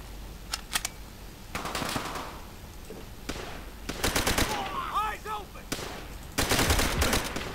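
Gunfire in Call of Duty: World at War: rapid bursts of shots crack out in several loud clusters, with short gaps of rumbling battle noise and a few ringing, whistling tones between volleys.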